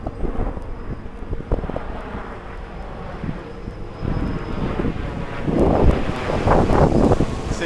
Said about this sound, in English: oh shoot, I got a plane coming down